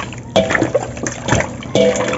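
Chicken pieces are stirred by hand in a shallow bowl of brining water, giving soft sloshing, trickling splashes in a few irregular bursts, close and fairly quiet.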